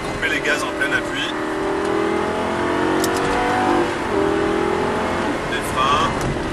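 The Lamborghini LP 560's engine sounds loud and close at constant throttle through a track corner, its pitch drifting gently up and down under a continuous roar.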